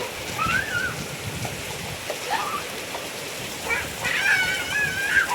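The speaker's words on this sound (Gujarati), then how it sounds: "સરસ વરસાદ આવી ગયો છે અમારે પણ આજે" Steady rain pours with a constant hiss of water, with faint chirping from birds on top.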